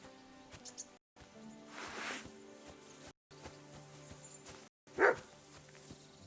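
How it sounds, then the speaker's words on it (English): A dog barks in Kingdom Come: Deliverance II, with a short sharp bark standing out near the end over quiet ambient game sound and music broken by brief silences. "barking. It's coming from over there."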